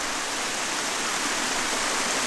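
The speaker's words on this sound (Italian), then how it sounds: "Sono arrivato alle cascate, o meglio alla cascata, è una sola che compie tre piccoli salti" A single waterfall dropping in three small steps, roughly twenty metres high, roars as a steady, dense rush of water, loud and unbroken, with no voices over it.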